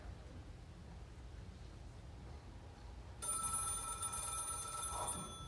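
Partway through, a telephone bursts into a steady ringing on stage during a high-school musical theater performance, cutting in over faint room noise and continuing to the end.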